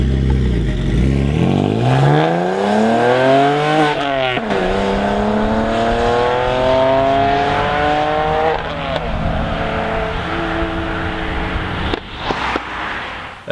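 A BMW 330i with the N52B30 engine revs hard and continuously, its engine note rising and falling in sweeping runs, with sharp exhaust backfire pops near the end, loud and close.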